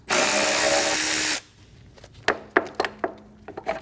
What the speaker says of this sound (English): Using a 10mm socket, remove the bolt for the washer fluid